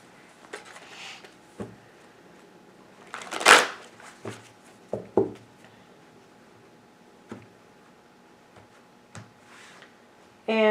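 Tarot cards riffled and shuffled close by for a love reading, a few soft scattered bursts with one louder flurry, then quiet handling, no talk.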